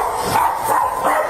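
A dog guarding its owner during a tense police confrontation at a house gives rapid, harsh barks and yelps in quick succession, loud and close against a noisy background.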